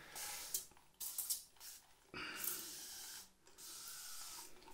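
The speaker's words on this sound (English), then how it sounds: "I'm gonna spray the old head, the old dome or solar panel." Short bursts from a hand spray bottle misting cold water onto a shaved head before a Body Shop head shave, several quick hissing squirts in an uneven rhythm, close and fairly quiet.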